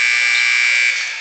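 A basketball scoreboard buzzer sounds at the end of the first half of a high school game between Emporia High and Topeka High, one loud, steady electronic blare that fades briefly at the end.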